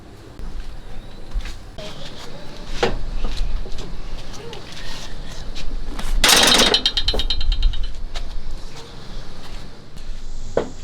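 Driving T25 screws to refit the screen on a Kubota Z725 mower, a steady mechanical whirr with scattered clicks and knocks, one louder buzzing burst in the middle, close, with a voice speaking at times.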